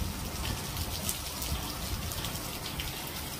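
Steady rain pours down, a dense hiss of drops splashing on surfaces, continuous and fairly loud with no voices.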